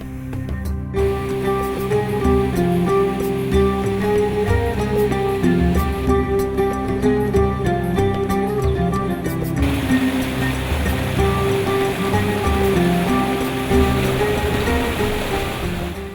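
Water rushes steadily along the stone channels of the Kırk Değirmen mills in Gürpınar, Van, where the main channel splits into separate mill channels; a continuous, fairly loud flow with some steady tonal sound over it, and no talking.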